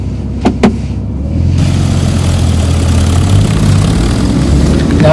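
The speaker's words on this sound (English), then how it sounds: "Now you can begin to hear the engine sounding noisy, so that's my indicator to go up a gear" A manual car's engine runs loud and close, a steady low rumbling drone building before a gear change, after a couple of brief clicks at the start.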